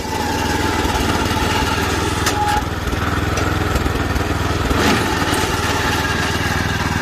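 A Mitsubishi 7 hp four-stroke petrol engine on a crawler dump truck with a manual tipping bed runs loud and close, a steady buzzing drone with a brief dip partway through and no voices.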